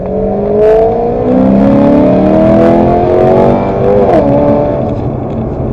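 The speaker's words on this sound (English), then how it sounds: "You can hear a little bit of the noise there from the exhaust." A Lexus GS-F car engine with equal-length headers revs loudly up close, its exhaust note rising and falling in pitch through a couple of climbs and drops.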